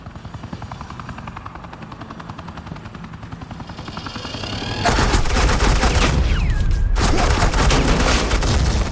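Suppressing gunfire in the Batman The Enemy Within video game, loud rapid automatic bursts over the steady thudding rotor of a helicopter, the firing starting about halfway and continuing to the end.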